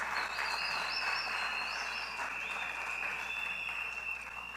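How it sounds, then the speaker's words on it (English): Applause at an outdoor political meeting, a faint, steady clapping from a distant crowd, with a continuous chorus of frogs and insects trilling over it. "Give yourselves a round of applause."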